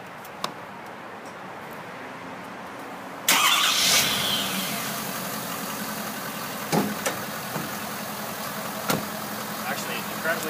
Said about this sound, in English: I'm going to start it up here and just show you how quiet it actually is.